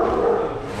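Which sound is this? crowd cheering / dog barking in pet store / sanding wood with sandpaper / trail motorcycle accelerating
dog barking in pet store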